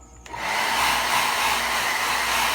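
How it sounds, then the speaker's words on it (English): A hair dryer, used to dry a custom Hot Wheels toy car before painting, switches on after a brief quiet moment and blows steadily with a loud, even whooshing hum. "Iron's back, so I've got a hairdryer"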